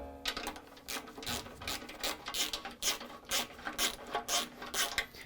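Ratchet with a half-inch socket loosening bolts on a lawn mower, a run of quick rhythmic clicking strokes, fairly quiet and close, repeating evenly through the whole stretch.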